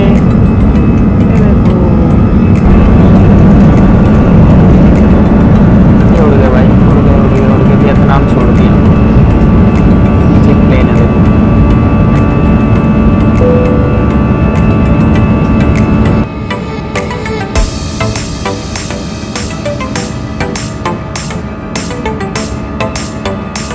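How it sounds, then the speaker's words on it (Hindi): A passenger airplane rolls down the runway toward takeoff, heard from inside the cabin as a loud, steady engine roar and rumble that drops to a quieter hum near the end. "गाइस अब प्लेन उड़ने वाला है, चल चुका है रनवे पे।"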